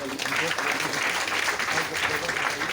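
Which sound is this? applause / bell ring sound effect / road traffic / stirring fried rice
applause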